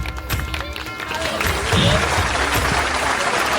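Audience applause at a dance competition during a community festival, a loud, sustained burst of clapping from a crowd that swells slightly midway, with some voices blended in.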